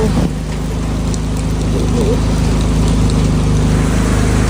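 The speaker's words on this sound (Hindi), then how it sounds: "मैं आपको दिखाती हूँ अभी कितनी तेज़ बारिश हो रही है" Heavy rain pours down in Himachal Pradesh, a dense, steady hiss of rain on surfaces with a low rumbling hum underneath, continuous and close.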